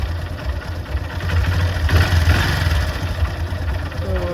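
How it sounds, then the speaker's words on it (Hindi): Honda Dream Yuga motorcycle engine idling with a steady low, throbbing rumble that swells slightly midway, heard close and continuous. "तो चलिए इंजन का साउंड एक बार सुन लेते हैं।"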